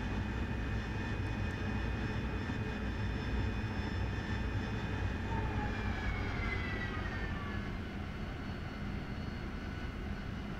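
An AV-8B Harrier jet engine in the DCS flight simulator hums steadily in a continuous whining drone with rising and falling tonal whistles, moderately quiet and with no talk.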